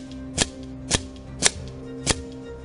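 Four sharp shots from a Benjamin Trail NP .22 air rifle firing pellets outdoors, evenly spaced about half a second apart, each a crisp close crack with a short tail, no talking.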